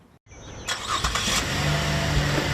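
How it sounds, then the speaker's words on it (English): A gray Chevy Impala car starts moving after a brief silence, its engine rising into a steady, close drive with a broad road and motor rumble. "Behind the wheel of this unassuming gray Chevy Impala is Craig Strain, a man as humble as the car"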